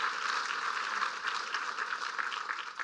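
An audience applauds at a governor's address on a women's agenda, a steady wash of clapping from a crowd, fairly distant and even throughout, without speech.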